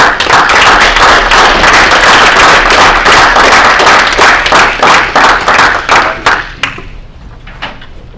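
A comedy show audience claps hard and fast for a stand-up comedian, loud and close at first. The applause then thins out to a few scattered claps and fades.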